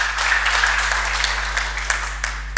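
A church congregation claps, a sustained patter of hands with a few sharper claps standing out, over a low steady hum.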